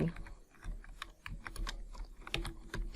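Fast, close keystrokes on a computer keyboard while HTML heading tags are typed during a coding lesson, an uneven stream of crisp taps with no talk.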